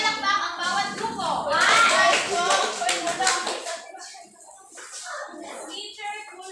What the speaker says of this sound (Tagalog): Bigyan natin ng 5 palakpak ang bawat grupo.